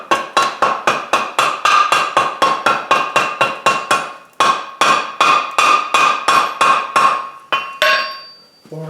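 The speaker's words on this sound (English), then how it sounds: "Now I start blending everything in on the horn of the anvil" Chain hammered on the horn of an anvil during forge welding, a steady run of about twenty ringing metallic blows close by, one short pause partway, then a few final strikes with no talk.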